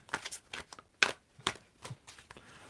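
Tarot cards being shuffled by hand in short, scattered riffling bursts with brief pauses between, close and fairly soft.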